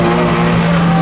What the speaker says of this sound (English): People are really wanting to get a close look at a Golf doing a front wheel drive burnout